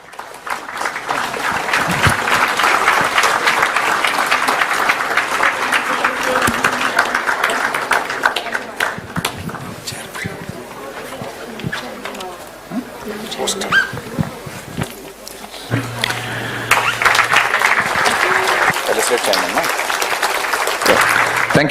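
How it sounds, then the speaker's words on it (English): Audience applause at a golden jubilee curtain raiser ceremony for New Mangalore Port, held at Bharat Mandapam: sustained crowd clapping that fades and swells again, with a voice speaking over a PA in the middle. "Please give him a round of applause."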